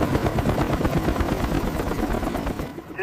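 A CH-53 heavy helicopter lifts away after recovering a 5000-pound bomb, its rotor chopping in a fast steady beat with a loud turbine roar that drops off sharply near the end.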